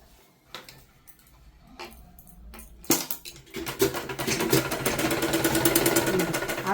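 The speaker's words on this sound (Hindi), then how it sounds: "इसके एंड पे एकदम सिलाई लगा के इसे हम हल्का सा पक्का कर लेंगे।" A sewing machine stitches the sleeve of a simple suit onto the garment. A few soft taps come first, then the motor starts into a steady, loud, rapid whir that runs to the end, with no talking.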